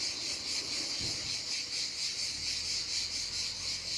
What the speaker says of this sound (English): So listen to the crickets, guys.